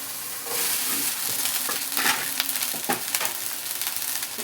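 Cooked rice mixed with mint paste being tossed in a hot pan, a continuous sizzle broken by repeated scraping strokes of a spoon against the pan.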